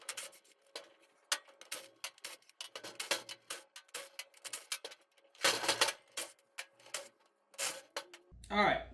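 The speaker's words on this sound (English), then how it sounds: "I'm going to go ahead and start unbolting all of the 12mm bolts that hold the case together" Bolts of 12mm being loosened from a Honda S2000 differential case, heard as a run of sharp, irregular metallic clicks and rasps up close, with a louder burst of clatter near the end.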